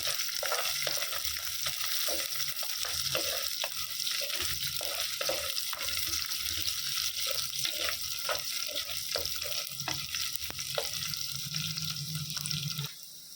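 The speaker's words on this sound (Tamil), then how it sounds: "இப்போது இஞ்சி பூண்டு சேர்த்திக்கலாம். நல்லா வதக்கிக்கலாம்." Ginger and garlic sauté with popped mustard seeds in a pan. A constant crackling sizzle runs under rapid, rhythmic stirring scrapes, with no one talking, and the sound drops off abruptly at the very end.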